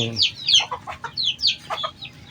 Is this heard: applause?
no